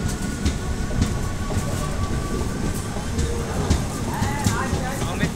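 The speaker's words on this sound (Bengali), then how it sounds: "আহমেদপুর জংশন নামে একটা স্টেশন থেকে ট্রেনটা ছেড়ে দিল।" The Uttarbanga Express pulls out of Ahmedpur Junction with a loud, steady rumble of carriages and rhythmic clatter on the rails. Faint chatter sits in the background.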